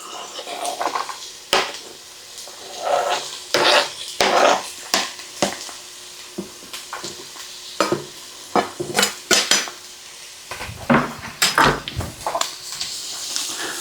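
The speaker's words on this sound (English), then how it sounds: "let me go ahead and add my carrots to it now" Carrots go into a pot for chicken and rice soup with clattering, scraping stirs of a utensil against the metal and a faint sizzle underneath, in bursts of clanks and pauses.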